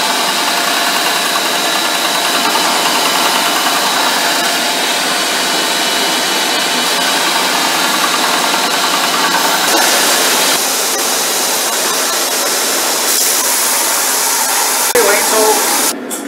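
Belt grinder grinding a Damascus steel knife blade, the plunge pushed into the side of the wheel; a steady, loud abrasive hiss and motor whine runs continuously throughout, with a brief shift near the end.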